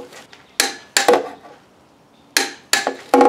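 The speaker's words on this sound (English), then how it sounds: "torque this down to 50 foot-pounds" Torque wrench tightening flex plate bolts to 50 foot-pounds on a third-generation Camaro, heard as sharp metallic clicks and knocks in two close pairs and then a final one, near and fairly loud.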